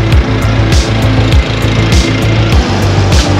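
A lawn mower runs steadily up close while grass is mowed, its engine drone continuous and loud with a regular pulsing rhythm throughout, and no talking.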